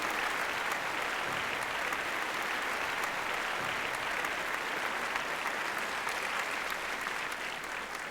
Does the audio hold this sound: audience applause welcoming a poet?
yes